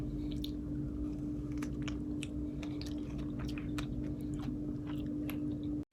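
A large strawberry is being chewed close to the mouth, with soft wet squishes and small bites over a steady low room hum.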